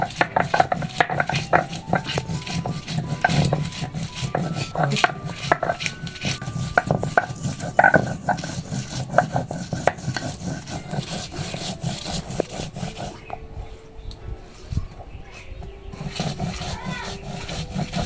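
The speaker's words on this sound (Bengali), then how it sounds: "সর্ষেগুলো ধুয়ে বেটে নিচ্ছি কাঁচা লঙ্কা দিয়ে।" Mustard seeds and green chillies are ground on a stone with a close, rhythmic run of scraping, knocking strokes that repeats steadily throughout and grows a little quieter toward the end.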